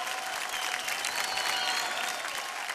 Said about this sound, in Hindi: जोरदार तालियां हो जाए गीता की गैंग की उर्वशी